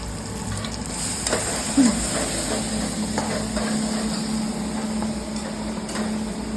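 Onion sautéing in a pan for a chana dal curry. A steady close sizzle and hiss runs throughout, with a few scraping stirs of a utensil on the pan.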